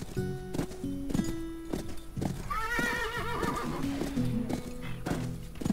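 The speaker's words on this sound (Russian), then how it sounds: "Давай на этой лошадке покатаемся." A horse in the Call of Juarez: Bound in Blood video game gives a loud, clear whinny amid rhythmic hoofbeats and clopping, set against game background sound and faint voices.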